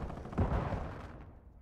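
Mortar fire in the Warzone video game, one muffled, distant boom that swells briefly and then fades into a rumbling tail.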